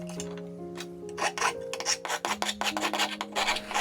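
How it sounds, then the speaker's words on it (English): A hand file rasps against the plastic edge of a cordless drill battery case in a series of short, close scraping strokes. A steady tonal hum runs underneath. "Now use the file to trim the edge."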